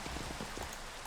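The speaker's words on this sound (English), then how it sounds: "Oh man, it's raining in such a darkness" Steady rain falls in the Minecraft Forgecraft modpack, a soft, continuous patter of drops heard alone at a low, even level.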